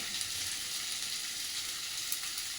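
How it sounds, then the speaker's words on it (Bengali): Chopped ginger, garlic and onion fry in hot oil, a steady close crackling sizzle with a soft hiss throughout and no talking. "তেল গরম হয়ে গেছে, একে একে আদা কুচি, রসুন কুচি, পেঁয়াজ কুচি"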